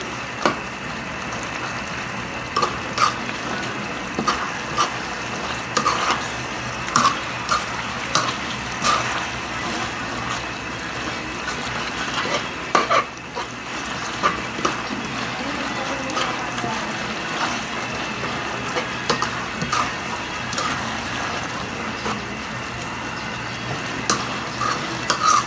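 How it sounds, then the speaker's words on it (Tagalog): Ginataang puso ng saging, banana blossom in coconut milk, stirred in a pot: an ongoing simmering hiss broken by repeated clinks and scrapes of a utensil against the pot. "haluin natin ng maayos"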